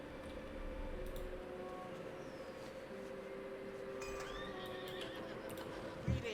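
A horse in World of Warcraft whinnies while being shod, a clear neigh over a soft ambient game backdrop, followed by a brief clop near the end.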